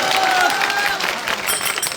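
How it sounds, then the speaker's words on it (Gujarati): Applause from a crowd for a bhajan singer at the Botad market yard at night, a dense close clatter of clapping that carries steadily throughout. "એમના માટે જોરદાર તાળીઓ થઈ"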